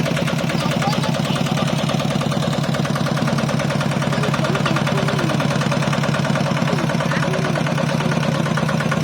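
A stuck farm plowing tractor's engine idles steadily with a low, rhythmic chugging rumble, loud and close throughout with no pauses.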